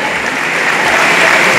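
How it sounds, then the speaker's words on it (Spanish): Loud continuous crowd applause fills the hall at a dinner-dance celebration for a woman who won a motorbike raffle, dense and steady without pause. "Fuerte el aplauso para la ganadora de la moto"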